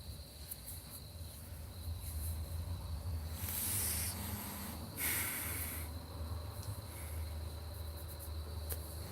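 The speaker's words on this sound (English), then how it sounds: "I for real thought the crickets were where I'm at." Crickets chirp in the countryside at night, heard from inside a vehicle as a faint, steady, high-pitched trill over a low hiss and rumble, with a few brief louder rustling swells.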